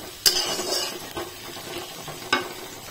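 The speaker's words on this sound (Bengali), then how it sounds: "চলছে পেঁয়াজ ভাজা এই পেঁয়াজটাও প্রায় ভাজা হয়ে এসছে" Onions frying in a pan for chicken curry, a soft steady sizzle broken by a few sharp clinks of a spoon against the pan.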